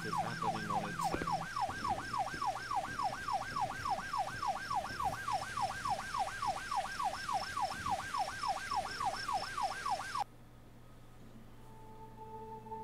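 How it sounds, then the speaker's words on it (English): A wailing emergency siren from a police-type vehicle in The Unknown City, sweeping up and down in a fast, steady cycle with a high tone above it, loud and continuous for about ten seconds before cutting off, leaving a low hum. "Why are you playing with the headlights and the siren?"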